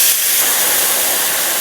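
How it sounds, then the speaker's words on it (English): Loud, broad hiss and sizzle of boiling-hot butter in a pan as it is deglazed, a dense continuous roar close up with no talking. "We want to deglaze that pan."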